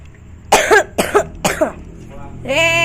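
Three loud, sharp coughs in a row, close to the listener, followed by a short voiced sound over a faint background hum.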